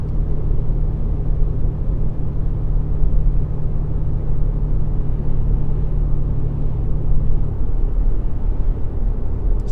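A 2018 Ram Limited pickup hauling cars climbs uphill and gathers speed, its engine a steady, loud low rumble with constant road and cabin drone throughout.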